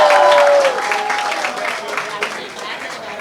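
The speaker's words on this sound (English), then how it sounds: "Please give them a huge round of applause." Audience applause at a song launch event, a burst of clapping that fades slightly over a few seconds, with faint voices mixed in.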